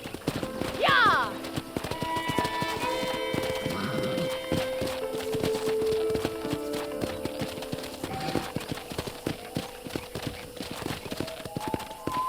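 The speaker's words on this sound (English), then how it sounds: "let's see if you can still ride a horse" Horse hooves clip-clopping in steady rhythm while riding toward a ranch in Red Dead Redemption, with a whinny early on, game music and sustained tones beneath, and a voice talking partway through.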